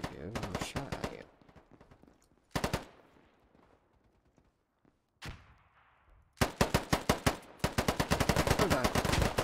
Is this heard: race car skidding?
no